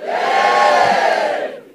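A comedy club crowd lets out a loud, sustained cheer and roar that holds steady for over a second before cutting off.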